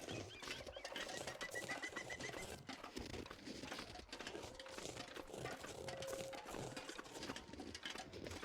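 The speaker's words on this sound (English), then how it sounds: "I do hear crows, so we might be in luck." Crows calling in the wilderness of The Long Dark video game, several cawing and cooing bird calls scattered over a steady ambient wind bed, moderately distant and fairly faint, with no talk.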